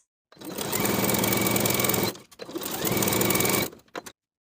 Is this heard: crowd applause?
no